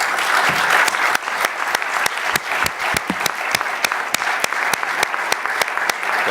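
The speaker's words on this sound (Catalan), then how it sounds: "demanaré també un fort aplaudiment per a vostè." Strong applause in a municipal council plenary session at Cullera town hall, a dense roomful of clapping at steady loudness, with a few sharp louder individual claps standing out throughout.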